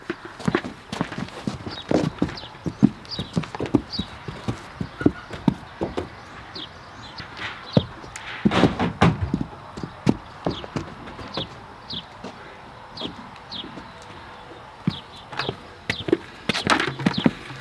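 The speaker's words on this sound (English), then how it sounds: "That very fine Palomino you just saw go by" Hooves of a Palomino horse clip-clopping as it walks past, a steady run of sharp, fairly close hoof clacks on hard ground, with faint birdsong in the background.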